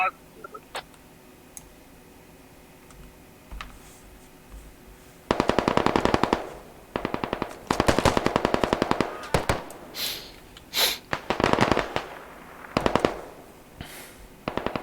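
Machine gun fire in the tactical shooter game Squad, loud rattling bursts of automatic fire in several repeated volleys after a quieter opening, with scattered clicks and faint game sounds between.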